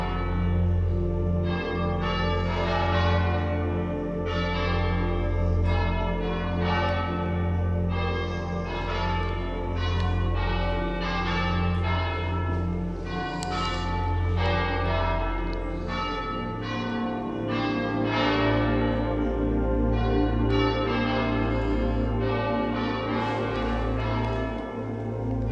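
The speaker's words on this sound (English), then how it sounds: "this place is magical with the church bell in the background" A church bell rings repeatedly near an abandoned 19th-century palace in the Swiss Alps, its strikes arriving in a steady rhythm over a low humming resonance. The bell sounds fairly distant and reverberant, with no talking.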